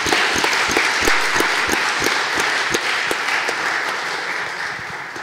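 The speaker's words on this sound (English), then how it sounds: "let's have one more round of applause for all of the participants" Audience applauding competition participants at the finals of a physics tournament, a steady dense wash of many hands clapping throughout, loud and close, slowly thinning toward the end.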